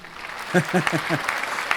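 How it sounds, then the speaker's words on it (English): A small pleasant round of applause, a few distinct near claps at a steady rhythm followed by lighter scattered clapping, with a voice briefly heard alongside. "I'll give this a pleasant applause."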